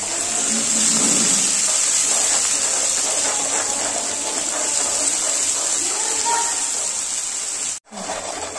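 Steaming hot water gushes steadily into a pan of garlic mutton curry with a strong continuous hiss, loud and close, cutting off briefly near the end.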